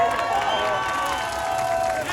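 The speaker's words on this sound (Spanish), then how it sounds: "Un aplauso para todos ellos." A crowd at a peaceful march in Cuernavaca claps and cheers after a speech, a dense, steady roar of mixed applause and voices that carries evenly through the short stretch.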